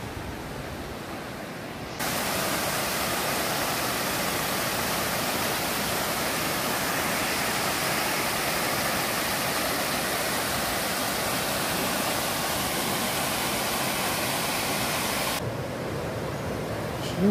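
The Ropote waterfall near Poiana Mărului in Caraş-Severin roars as a dense, steady rush of falling water that holds evenly for most of the stretch, heard close and without voices.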